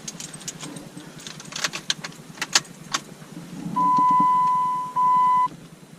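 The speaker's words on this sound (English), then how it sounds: "Turn ignition on." Turning the key to switch on the ignition of a Jeep JK: faint clicks and key rattles, then a steady electronic chime or beep tone lasting over a second, a short break, and a second shorter tone, with no engine start.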